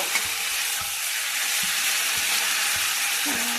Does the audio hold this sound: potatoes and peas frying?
yes